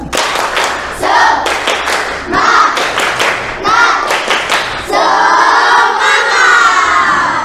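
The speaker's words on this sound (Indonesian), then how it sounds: "Tepuk semangat ya, bersama. Ayo, tepuk semangat." A school class performs the rhythmic 'tepuk semangat' clapping chant, children shouting words together between sharp, patterned group claps, then breaking into a loud sustained cheer at the end.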